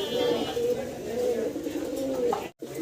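A pair of fancy Kakji pigeons cooing close by, a low rolling coo that runs through most of the moment, with a voice briefly present.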